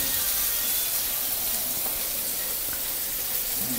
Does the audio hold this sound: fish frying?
yes